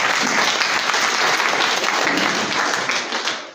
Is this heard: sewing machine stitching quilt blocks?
no